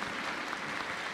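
A church congregation claps during a service, producing a brief, steady wash of applause at moderate loudness with no gaps.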